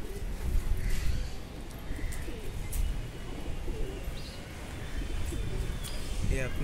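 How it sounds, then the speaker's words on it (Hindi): Released pigeons coo near the loft amid a steady outdoor background, with soft wing flutters. Chirps are mixed in, and a voice talks over the scene. "ये कबूतर को फेंकने जा रहे हैं"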